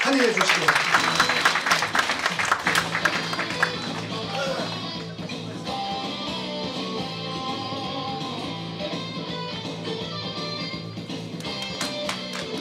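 An audience at a lecture event applauds to welcome a professor, with a burst of dense clapping over the first few seconds that fades as a voice begins speaking.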